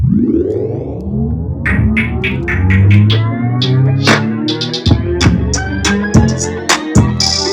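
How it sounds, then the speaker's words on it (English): A beat intro that rises from a slow tape startup, pitch sweeping upward over the first seconds before settling into loud, steady drums and melody, played alone. "plays the whole section but starts and ends with a super gradual tape startup effect"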